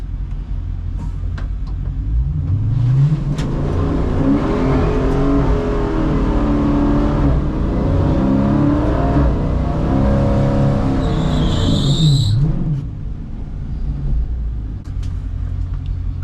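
Drag racing car at the Holley MoParty 1320 Shootout revving with rising and falling engine pitch before launching, loud and close, ending with a quick high whine and quieter rumble.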